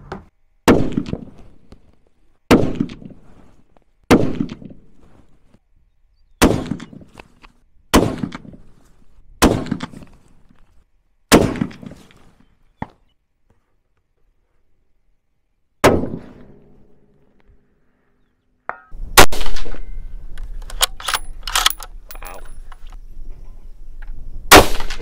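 Two bolt-action hunting rifles, a Seekins Havak PH2 and a Howa Carbon Elevate, fire at an outdoor range: about eight sharp, loud, close cracks spaced a second or two apart, each trailing off, followed by a dense stretch of clattering noise.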